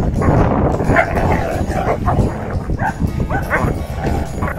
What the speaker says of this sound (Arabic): وأخيرا المواجهة الشرسة بين كلب ماستيف وقطيع من الذئاب